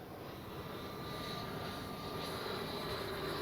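An FMS Avanti S 90mm RC jet flies with a steady, smooth ducted-fan whine holding a constant distant roar, no talk over it.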